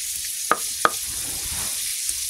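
Rupchanda fish frying in hot oil gives a steady, bright sizzle throughout, broken by two sharp clicks or pops near the start.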